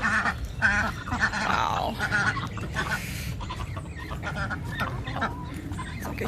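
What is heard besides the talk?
ducks in a flooded yard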